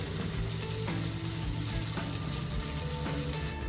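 Chopped tomato sizzles and fries steadily in a hot pan for an egg masala rice, with a dense continuous crackle and a few soft stirring scrapes, close and without talk.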